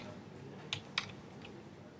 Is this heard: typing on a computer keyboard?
yes